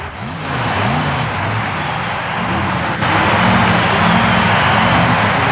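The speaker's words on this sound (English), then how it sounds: "the outrageous Mike Spina and the psychotic beast, supercharged, fuel-injected, Chevy-powered 1927 Ford" A supercharged, fuel-injected, Chevy-powered 1927 Ford mud racer roars loud and close at a Long Island mud racing event, its engine note steady and harsh, then jumping louder partway through as it revs under commentary.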